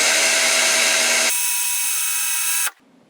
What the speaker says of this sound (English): we're just going to let the drill run for about 5 seconds to straighten this piece of wire out